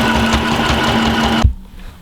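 A sewing machine runs steadily for about a second and a half, topstitching down the centre front of a coat, then stops abruptly, leaving near silence.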